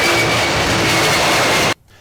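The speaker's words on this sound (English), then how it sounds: "It's a jumbo jet." A loud, steady roar of a jumbo jet engine, broadband and unchanging, cutting off abruptly near the end.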